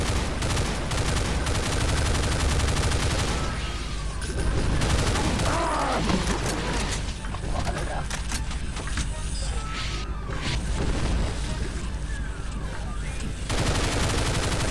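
Relentless gunfire in Doom with the Project Brutality mod, rapid machine-gun bursts and heavy shots hammering almost nonstop for the whole stretch, loud and close, with occasional booms and mechanical clatter.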